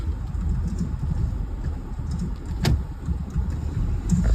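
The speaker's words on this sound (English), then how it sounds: "Ambient road noise" Ambient road traffic noise heard from a car while out doing delivery driving, a steady low rumble of passing vehicles with a brief sharp click and faint bird cooing in the background.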